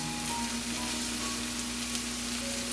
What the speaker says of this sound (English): Doesn't take much to cook the scallop. Give it a flip.